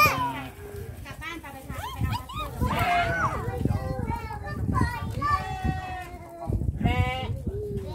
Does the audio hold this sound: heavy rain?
no